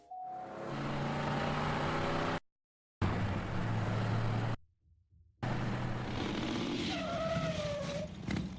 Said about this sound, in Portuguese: O último trailer começa com uma mulher andando em uma moto em alta velocidade